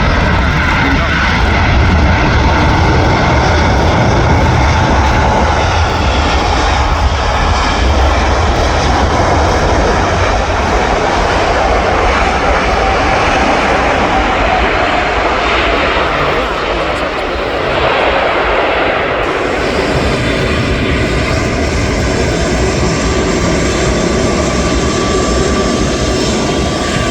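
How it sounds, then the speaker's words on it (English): A large four-engine aircraft roars as it rolls down the runway at Manchester Airport, a loud, sustained engine drone with a broad rushing noise that holds steady and shifts in tone partway through, with no voices over it. "the aircraft, as it's rolling down the runway"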